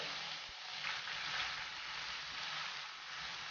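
Meat for lasagna sizzles steadily in a hot pan, a soft, continuous crackle with no talking.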